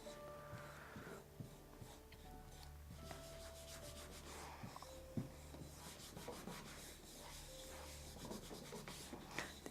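Dry, soft rubbing strokes by hand over a transferred image on an artwork, working from the middle out to the edges, repeated scratchy friction at a quiet level with no talking.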